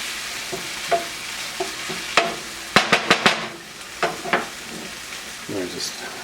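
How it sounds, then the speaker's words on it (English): A spoon stirs ketchup into menemen in a hot pan, giving a soft background sizzle under a run of clinks and scrapes. The scrapes grow denser and louder partway through, then ease off. "You want to just stir all this in really well so it cooks down just a little bit."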